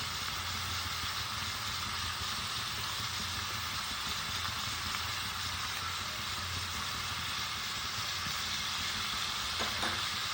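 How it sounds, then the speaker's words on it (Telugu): Capsicum fries in a pan with salt and chili powder, giving a continuous, even sizzle that holds steady throughout with no talking. "ఇందులోకి కొంచెం ఉప్పు, కొంచెం కారం వేసి ఫ్రై చేసుకుందామండి."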